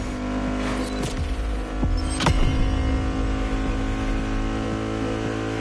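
A car engine in The Crew Motorfest idles with a loud, steady hum, then gives a sharp rev around the middle and settles back to idle, with no voices.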